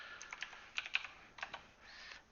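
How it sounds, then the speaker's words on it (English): Keys clack softly on a computer keyboard as a password is entered, a short irregular burst of taps with pauses, faint and close, no voices. "Just gonna type that in here"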